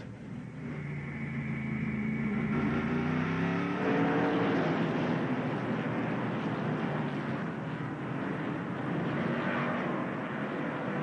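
Race trucks in the 1997 Exide/Kragen 151 accelerate back to racing speed under green, a loud, dense engine roar swelling into a steady wall of noise from the pack, with no voices.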